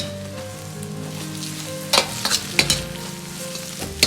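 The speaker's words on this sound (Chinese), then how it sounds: "炒至鸡蛋两面焦黄蓬松出香味" Scrambled eggs stir-fried in a wok with lettuce stem cooking nearby, a steady sizzle of hot oil broken by several sharp scrapes and clacks of the spatula against the metal, close up and with no talk.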